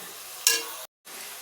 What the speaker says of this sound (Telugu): ఫ్రైడ్ ఆనియన్స్ ఆల్మోస్ట్ రెడీ అయిపోయాయి.